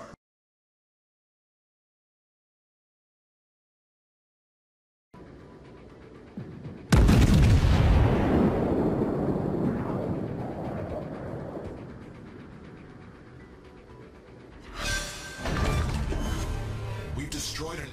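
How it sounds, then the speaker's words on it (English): An enemy cruiser in World of Warships blows up in a sudden heavy explosion after several seconds of near silence. A long rumbling roar decays slowly, then a second, smaller burst of crashing noise follows. "We've destroyed an enemy cruiser."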